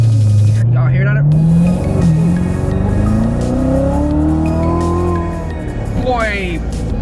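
A 2018 Chevrolet Corvette C7 Z06 accelerates hard on the road, its loud, close engine note climbing and sweeping up through the revs, with excited voices over the roar.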